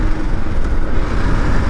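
A Kawasaki KLR 650 motorcycle rides through town, its engine drone loud and close, a continuous rough rumble mixed with road noise and no one speaking.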